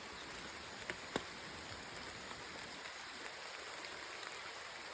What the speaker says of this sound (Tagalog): Ulan! Silong muna kayo!